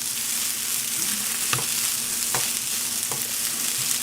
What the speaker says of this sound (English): I'm basically now going to just stir this up and mix it